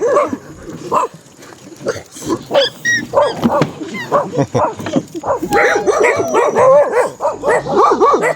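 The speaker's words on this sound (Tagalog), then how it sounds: "Nakasalubong kami ng aso, Lodi." Dog on a road barks repeatedly in irregular bursts, with yips and whimpers mixed in, close and loud, while people speak and a faint whine runs underneath.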